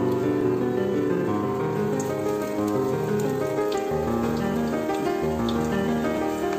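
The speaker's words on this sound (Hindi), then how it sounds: "देखिए अब हम इसको अच्छी तरह से ऐसे फ्राई करेंगे।" Cashew pakoras sizzle steadily in hot oil in a home kitchen, a dense, continuous crackling fry that stays close and even throughout, with no talking.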